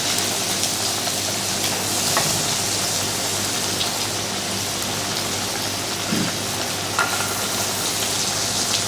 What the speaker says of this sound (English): You don't want to burn the butter, you just want to sort of get it to that nutty, just so it starts to go dark